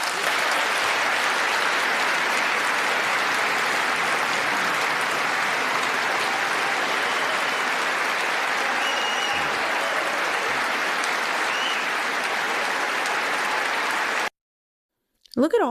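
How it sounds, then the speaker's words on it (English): Legislators in a parliamentary chamber give a standing ovation, a long, dense and loud wall of clapping that runs steadily for about fourteen seconds, then cuts to a brief silence and a short voice. "Standing ovation, clapping about more war."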